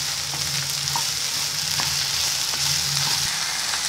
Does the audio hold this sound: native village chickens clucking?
no